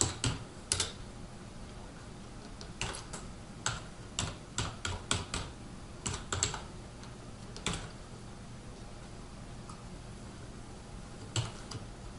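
Typing an email subject on a computer keyboard: close, clicky keystrokes in short bursts with pauses between, against a quiet room, with no speech.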